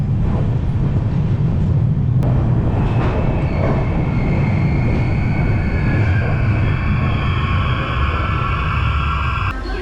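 Express train 15912 from Naharlagun to Tinsukia pulling into New Tinsukia Junction, its carriages rumbling loudly and steadily on the rails throughout, with a rising whine and faint squeals near the end.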